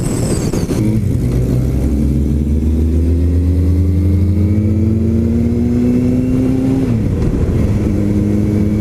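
A motorcycle climbing into the mountains, its engine loud and close, revving with rising pitch through a gear, then briefly dropping as it shifts and pulls on again.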